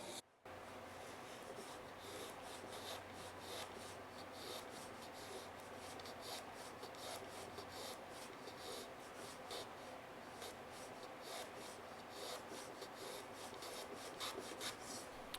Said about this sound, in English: So break out the old handsaw and just do it the old-fashioned way.